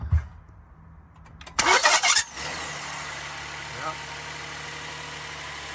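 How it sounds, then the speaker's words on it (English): A Kia Telluride cranks over on a newly installed starter and catches, settling into a steady idle hum; the cranking burst is loud and close, and a person speaks briefly before it. "Brand new starter sound."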